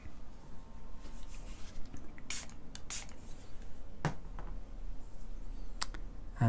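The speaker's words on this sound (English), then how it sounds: "I need to just spray it." A handheld spray bottle gives a few short, sharp hissing spritzes of water onto a watercolour figure painting, close and distinct against a quiet room.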